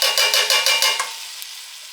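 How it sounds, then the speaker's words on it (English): A spoon stirs chili beans, diced tomatoes and tomato sauce in a pot, scraping in about six even rhythmic strokes close by before the motion stops and the pot goes quiet, with no talking. "I went ahead and stirred it all together"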